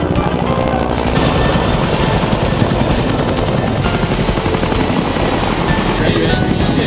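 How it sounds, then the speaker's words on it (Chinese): A military transport helicopter during the Han Kuang 30 exercise at the Minxiong highway strip, a loud, steady rotor roar with dense, continuous chopping throughout, and a high whine joining partway through. "在运输直升机"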